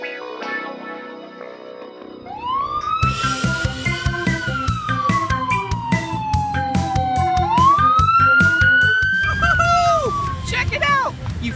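A police truck siren wails loudly, its pitch sweeping up and down over a rapid pulsing beat, with chatter underneath.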